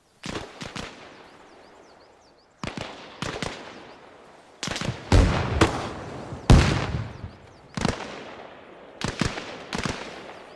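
Video game gunfire in Arma Reforger combat ops on PS5 Pro: sharp shots cracking alone and in short clusters, some loud and close, others fainter, each followed by a rolling echo across open terrain.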